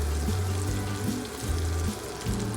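About a tablespoon of butter melts in a pan, giving a soft, steady sizzle and hiss over a low, pulsing hum, close by and without voices.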